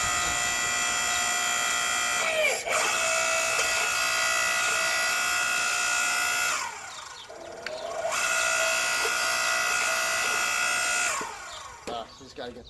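A Boss log splitter's engine runs steadily with a strong harmonic drone, cutting out briefly twice before starting again, loud and close.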